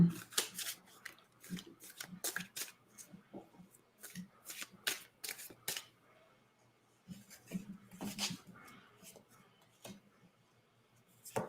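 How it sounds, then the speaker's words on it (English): Tarot cards shuffled by hand in repeated bursts of crisp riffling and slapping, with brief pauses between, close and fairly clear. "I'm going to throw some cards down on it."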